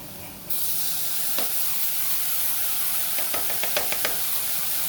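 Chopped onions and tomatoes sautéing in a pan, a broad close sizzle that starts abruptly, with a few light knocks and a quick run of scraping spoon taps.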